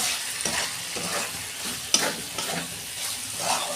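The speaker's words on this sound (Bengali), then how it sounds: "এবার আমি ভালো করে কষাবো যতক্ষণ না ভালোভাবে তেল ছাড়ে মশলা থেকে" Spice masala for a soybean curry being stir-fried in oil in a pan, with a steady close sizzle and repeated scraping stirs of a spoon through the thick paste, no talking.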